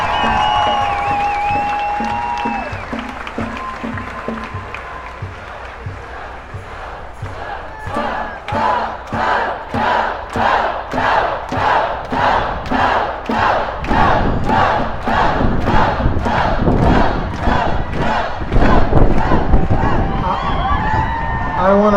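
A crowd at a Families Belong Together rally in Austin, Texas cheers and chants in a steady rhythmic pattern of repeated bursts that grows louder, with shouting voices mixed through it.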